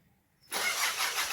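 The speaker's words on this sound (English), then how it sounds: "Now let's try to turn on the engine." A car engine turns over and catches at about half a second, after near silence, then settles into a steady loud running roar with its air-conditioning system just switched off.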